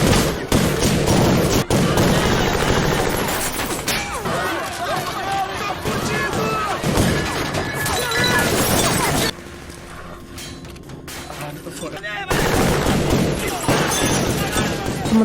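Gunfire in a tense film scene where a man shoots a gangster reaching for money at his waist, sharp shots and crashes mixed into loud dramatic action audio with talking and music, dropping to a quieter stretch before resuming.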